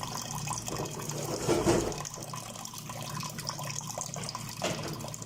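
Tap water running and splashing into an empty cooking vessel as it fills for cooking rice in a home kitchen, a steady close rush with a brief louder surge near the start.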